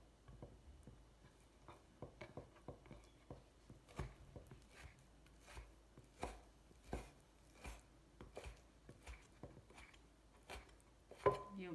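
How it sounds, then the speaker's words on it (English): A knife finely minces meat for samsa on a cutting board, tapping out quick, fairly soft, irregular chops in a close, steady rhythm with no talking. "You're basically mincing it really fine."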